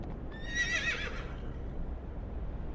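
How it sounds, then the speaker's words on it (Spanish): A horse lets out a shrill, quavering whinny over a low, steady rumble with faint hoof clopping, a sound effect heard alone without voices. "Escuchó un golpeteo de cascos, un relincho."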